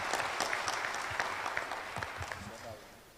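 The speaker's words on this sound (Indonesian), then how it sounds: "Maka tepuk tangan kita" A church congregation applauds during a Sunday fundraising service for a new church building, steady dense clapping from a crowd that thins and fades away at the end, with talk faintly mixed underneath.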